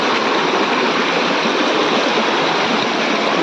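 A village stream swollen by heavy rain rushes along in a steady, loud, unbroken wash of water noise, with no voices over it.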